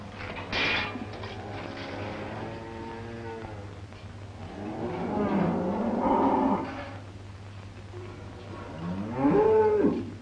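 Frisian cattle moo repeatedly, three long drawn-out lowing calls from close by, separated by quieter pauses over a steady low hum.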